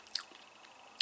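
Crispy caramel-filled wafer biscuits being chewed close up, two sharp crunchy bites about a second apart with soft mouth sounds in between and no talking.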